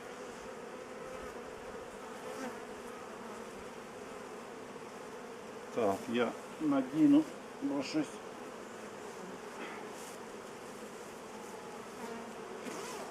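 Honeybees hum and buzz in a low continuous drone during a colony transfer to a new hive, with a few louder passes close by and a brief spoken remark partway through.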